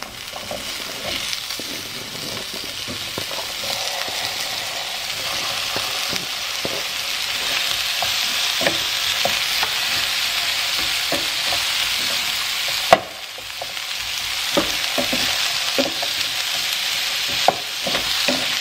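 Garlic sizzles and fries steadily in a pan on the stove, a loud continuous crackle with occasional stirring scrapes and one sharp knock partway through.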